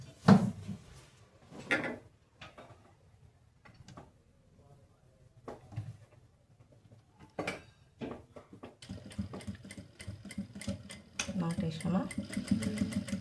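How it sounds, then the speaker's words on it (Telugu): Sewing machine stitching a blouse, with scattered clicks and short thumps through the first part, then a run of rapid mechanical stitching toward the end, close and fairly quiet amid soft handling noises. "ఇప్పుడు ఇక్కడి నుంచి ఇలా కుట్టుకొని ఇలా స్ట్రైట్ కుట్టుకోవాలి"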